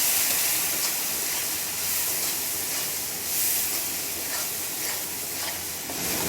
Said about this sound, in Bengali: মশলাগুলো একটু নেড়ে চেড়ে মিশিয়ে নিচ্ছি।